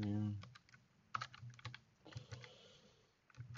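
Clicks from a computer keyboard come in short, uneven bursts of taps, fairly near but quiet, after a brief voice at the start.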